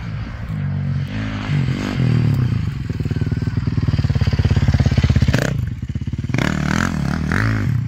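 An AJP PR7 motorcycle ridden off-road, its single-cylinder engine close and loud, revving up and down in pulsing bursts with clattering and scraping over rough ground.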